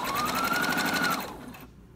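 A sewing machine runs a quarter-inch seam on a Cricut Maker dust cover, a close, fast, steady whirring burst that winds down and stops after about a second and a half.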